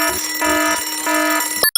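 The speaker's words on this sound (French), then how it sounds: "Alarme désactivée" An electronic alarm effect rings in bright, steady repeated tones, pulsing in bursts about every half second, loud and close, before cutting off abruptly.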